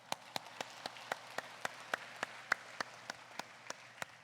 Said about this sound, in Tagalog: palakpak sa Diyos